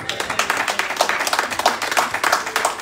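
A church congregation applauding during an evening sermon, dense clapping from many hands, loud and close, filling the whole moment.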